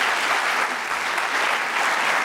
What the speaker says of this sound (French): J'aimerais qu'on applaudisse, s'il vous plaît, encore plus fort.